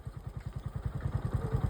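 A motorcycle engine pulses steadily and fairly loudly while a learner rides it in second gear, its low rhythmic throb continuing throughout with no talk.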